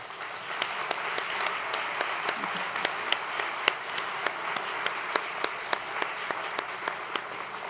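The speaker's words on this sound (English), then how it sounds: "could you please stand for a round of applause?" A room full of dinner guests applauds at an annual dinner, a dense steady round of clapping held throughout with faint cheering underneath.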